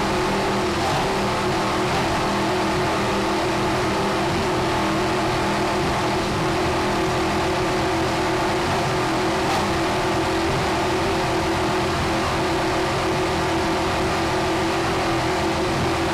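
Fountain Mercury Instigator offshore racing powerboat engines roar in the Super V class on rough seas: a dense, loud, continuous engine drone mixed with wind and water rush for the full stretch, with no talk.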